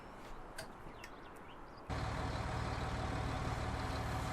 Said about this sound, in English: We need to start the engine on that.